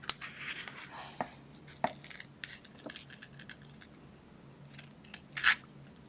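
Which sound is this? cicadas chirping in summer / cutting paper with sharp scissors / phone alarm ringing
cutting paper with sharp scissors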